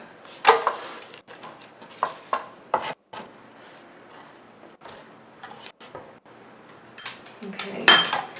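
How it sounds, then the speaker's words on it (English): A spatula scrapes around a mixing bowl of creamed, fluffy batter, giving irregular scuffs and knocks against the bowl with brief pauses, close up, while a person talks. "I'm going to give a bowl a scrape."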